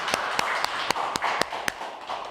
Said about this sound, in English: You give a hand clap for her.